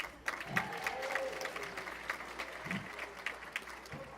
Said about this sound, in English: big round of applause for Fudge, ladies and gentlemen.